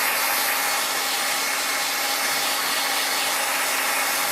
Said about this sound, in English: I've got a heat gun here, and on high this heat gun is good for 1100 degrees